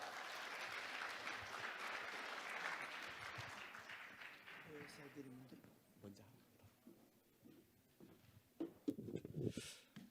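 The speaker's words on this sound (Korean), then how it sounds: "큰 박수 부탁합니다" Audience applause welcoming a pastor to speak at a gathering, a dense sustained clapping that fills the first half and then fades, followed by quieter sounds and a voice near the end.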